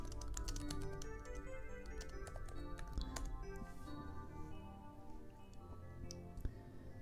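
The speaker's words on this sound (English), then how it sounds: "It's hard to type and talk at the same time." Someone types quickly on a computer keyboard, a steady run of close, crisp key clicks and taps over a faint background hum, with no talking.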